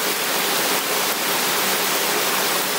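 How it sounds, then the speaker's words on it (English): Small waterfall at Casuarina Falls in the Kimberley, a steady broadband rush of falling water close by, continuous and even throughout with no voices. "We figured this little waterfall down here"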